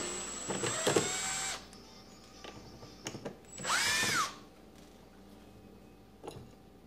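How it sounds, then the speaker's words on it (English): A power drill whirs in short bursts while removing a screw from a kitchen cabinet door hinge, with one longer high-pitched spin of the motor, amid faint clicks and handling noises. "my little drill bit, and I'm gonna go ahead and remove it"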